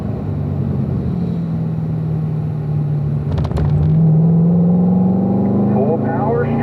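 A race car at a performance driving school at Spring Mountain holds a steady engine drone, then pushes to full power, the pitch climbing as it accelerates down the straight.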